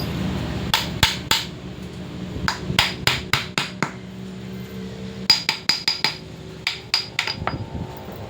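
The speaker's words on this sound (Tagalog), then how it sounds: "Hammer mallet." Hammer or mallet strikes on car parts during repair of a noisy transmission, sounding as sharp, loud metallic blows in quick clusters of three to five with short gaps between bursts.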